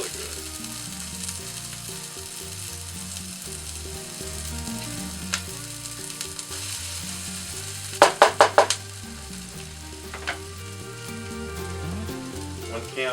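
Red pepper sautéing in a pan sizzles steadily up close, with a quick burst of four sharp utensil taps near the middle and a few lighter knocks later.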